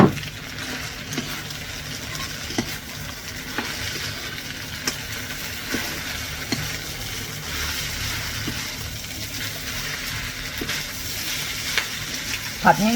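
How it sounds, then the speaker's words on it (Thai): Rice noodles stir-fried in a pan with spring onions and bean sprouts, a steady loud sizzle with scraping stirs running throughout. "ใส่ต้นหอมแล้วก็ ถั่วงอกค่ะ ผัด"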